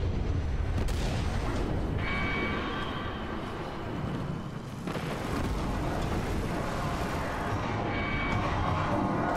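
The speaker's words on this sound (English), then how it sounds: "Who's blowing stuff up without me? I'm gonna get eyes on that explosion." Loud, dense explosions and blasts rumble continuously through a prison level in the Destiny 2 Forsaken video game, with heavy low booms and crackling debris.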